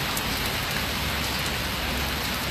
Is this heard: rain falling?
yes